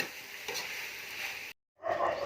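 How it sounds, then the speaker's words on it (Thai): Napa cabbage and cabbage stir-fried with pork and glass noodles in a hot pan: loud, continuous sizzling with scraping stirs, a brief total drop-out, then frying resumes. "มือนี้เฮามาผัดผักกาดขาว แล้วก็กระลำเด้อค่ะ ใส่หมู ใส่วุ้นเส้นค่ะ"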